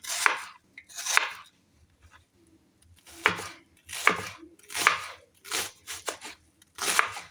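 Knife chopping onion or beef fat on a board in a home kitchen, with eight or so distinct bursts of rapid chopping strokes separated by short pauses, close and clear with no talking.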